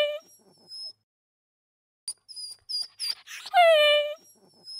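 A cartoon puppy whimpering after falling into a big pit, several thin, high whines and a longer falling wail between short pauses, close and fairly loud.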